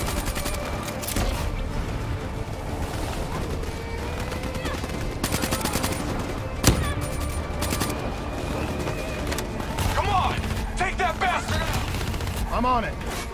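Rapid bursts of automatic gunfire and swarm launcher fire from a firefight in the video game Call of Duty Black Ops III. The shots are loud and dense, with a sharp boom near the middle and voices heard at times.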